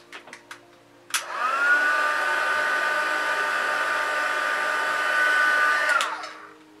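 A heat tool, like a hair dryer, switches on after a few faint taps and blows steadily for about five seconds to set makeup, a loud close whine with a rising tone, then cuts off.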